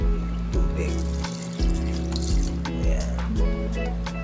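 One cup of water pours into a cooking pot for an Ilocano octopus dish with kamias, sounding as a close splashing gush with gurgling bursts and a faint hum behind it.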